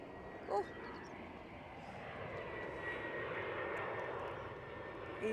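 A plane landing at Edinburgh Airport gives a steady, fairly loud broadband engine roar that holds through the whole stretch, with a brief sharper sound near the start.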